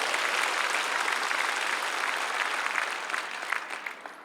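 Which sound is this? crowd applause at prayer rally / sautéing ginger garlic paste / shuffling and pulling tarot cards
crowd applause at prayer rally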